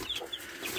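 A hen clucks softly in short, broken bursts, close by, with faint bird chatter and farmyard noise around it.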